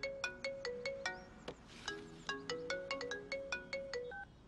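A phone ringtone plays a bright, repeating electronic melody in a Telugu movie. The notes come in quick, regular bursts, close and clear, with no talk over them.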